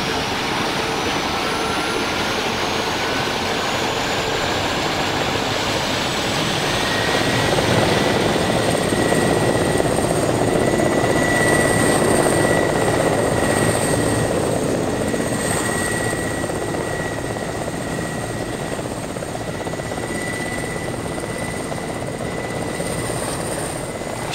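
A helicopter in a video game, heard as a loud, continuous whine of rotor and turbine with a slowly shifting pitch, sustained throughout with no talking.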